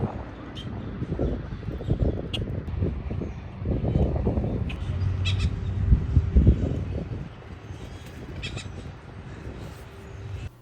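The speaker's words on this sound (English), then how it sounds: "So I started my day bird watching." Outdoors during morning birdwatching, a crow caws several times among other bird calls, heard moderately close over a steady background of wind and distant traffic.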